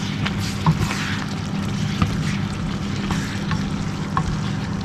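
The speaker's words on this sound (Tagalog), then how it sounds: "nilagay ko na yung ating cucumber. Haluin lang natin siya." Cucumber pieces stirred in a hot frying pan, a steady sizzle with occasional soft scrapes and clicks of the utensil, close and continuous with no talking.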